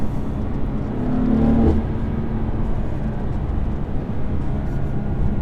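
A BMW M4 engine drones steadily in the cabin while driving on a country B road, a loud continuous low rumble with a brief swell as revs rise, no speech.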